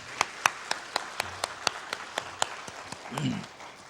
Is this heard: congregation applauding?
yes